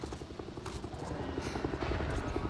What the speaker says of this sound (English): Sounds like a helicopter, kind of.